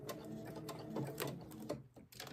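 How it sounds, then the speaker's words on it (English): A sewing machine runs decorative stitches on an appliqué spring wall hanging, producing a rapid, rhythmic mechanical ticking and whirring at close range, briefly pausing near the end. "just do my decorative stitches"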